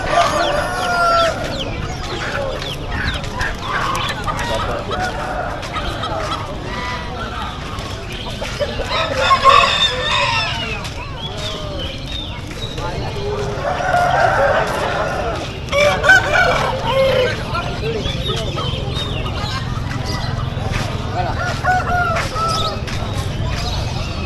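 Roosters crow repeatedly among Bangkok fighting chickens for sale at a Palembang bird market, several loud cock-a-doodle-doos rising over clucking and busy market chatter, with people talking throughout.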